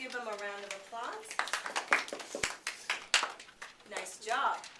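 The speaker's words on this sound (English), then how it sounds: "Let's give them a round of applause." Classroom students clap for a student group, scattered uneven claps mixed with teacher and student voices talking over them.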